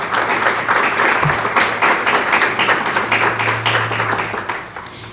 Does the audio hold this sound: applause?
yes